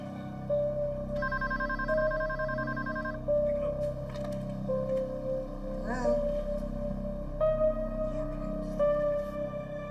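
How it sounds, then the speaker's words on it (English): Telephone ringing in a dramatized kidnapping scene, electronic ring bursts repeating in a steady pattern over a low background hum, with a voice speaking between the rings. "Come on, get up and get the phone."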